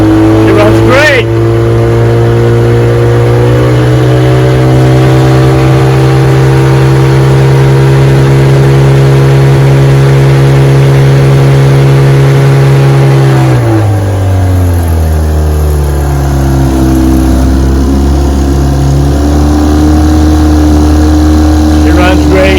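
A restored 1957 Sea King 5 HP outboard motor runs in gear on a bayou with a steady, loud droning hum that holds constant, then drops in pitch and settles lower midway through.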